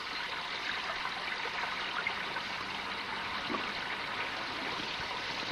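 Steady broadband rush of a small stream carrying household sewage, flowing continuously at moderate level with no voices.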